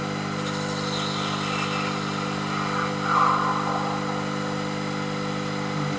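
A PM Research kit milling machine feeds into a cut, giving a steady mechanical hum and drone with a faint brief swell midway, with no speech over it.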